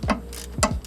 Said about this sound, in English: Then I'll be able to take the ratchet, put it on the nut, and remove it.